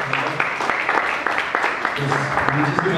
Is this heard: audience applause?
yes